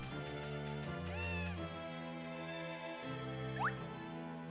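A cat meows in the farming game Harvest Moon: A Wonderful Life, a couple of clear, rising-and-falling mews over a looping, melodic background tune, fairly close and distinct.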